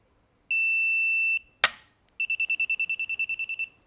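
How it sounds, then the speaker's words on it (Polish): Electronic beeps from the control unit of a WELL WE01A CQB airsoft rifle in programming mode: one long steady tone, a sharp click, then a quick run of about a dozen short, evenly spaced beeps, close and clear in a quiet room. "Przytrzymujemy spust na ogniu pojedynczym i pojawią nam się dźwięki z układu."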